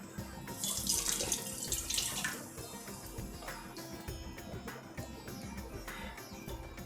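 Water runs from a tap and splashes in a sink as a mixer jar is rinsed, loud and close at first, then softer and steadier.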